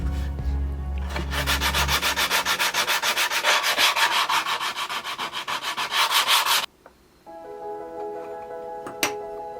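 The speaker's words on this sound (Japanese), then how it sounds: "最後の最後、細かいところはやはり手で研磨していくしかありませんね。" A wooden camp spice box has its edges sanded by hand, giving rapid, rhythmic rasping strokes that are loud and close, then stopping abruptly, followed by quieter workshop tones and a sharp tick.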